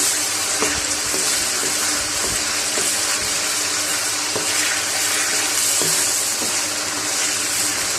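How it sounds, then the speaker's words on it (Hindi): Chicken pieces frying in oil for a white karahi, a steady close hiss and sizzle that fills the whole stretch, with occasional faint clicks and stirring knocks. "चिकन हमारा ऑयल में वाइट होना शुरू हो गया। अब हम इसे अच्छे से ऑयल में"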